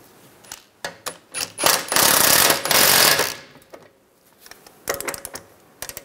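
A nut being tightened onto the rear strut and spring assembly of a 2004-2009 Toyota Prius: scattered clicks, then a loud mechanical rattling burst of about a second and a half, followed by sparse tool clicks nearby.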